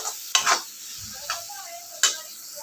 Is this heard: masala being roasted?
yes